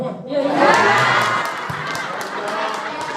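An audience at a district social service and free health check event in Central Lampung claps and cheers. The noise swells and then fades, with shouts from the crowd and a voice over the top.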